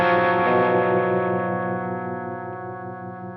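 A sustained electric guitar chord through a Walrus Monument harmonic tremolo pedal, ringing out with a pulsing, wavering modulation, slowly fading over a few seconds.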